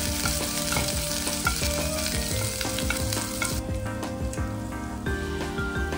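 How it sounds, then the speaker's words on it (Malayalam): Green chillies being sautéed in a pan for a chicken roast, dense sizzling with frequent stirring clatter and spatters, loud and close, easing slightly partway through, no one speaking. "ഇതൊന്ന് വഴറ്റിയെടുക്കാം."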